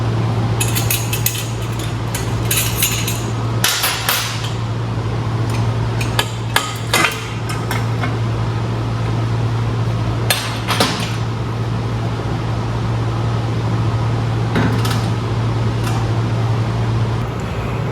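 Exhaust head pipe being jiggled loose from its flanges under a vehicle, giving scattered metallic clanks and clinks at close range over a steady low hum, with no talk.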